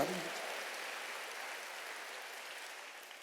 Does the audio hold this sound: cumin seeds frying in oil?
no